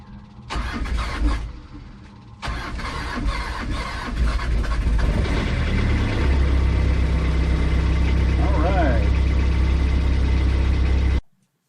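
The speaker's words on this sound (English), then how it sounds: "And we have a functioning engine." A boat engine, newly rewired after a lead-acid battery system was removed, cranks briefly, stops, then catches and settles into a loud steady running drone up close until it is switched off at the end.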